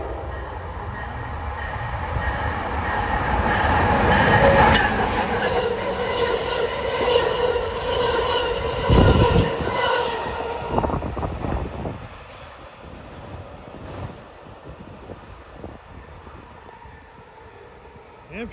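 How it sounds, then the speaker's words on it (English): Amtrak train running Harrisburg to Philadelphia under catenary, rolling past with a building rumble, horn-like tones and wheel clatter that peak midway then fade into the distance, with brief talk. "Here comes Amtrak."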